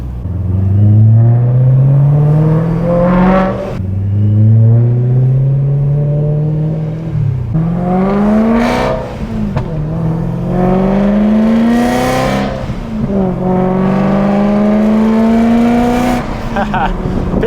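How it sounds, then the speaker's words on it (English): Loud BMW M3 engine revving close by in repeated rising bursts, each climbing in pitch and then dropping back to a rough idle between revs, with no talk over it. "I don't think he's ever heard a car this loud."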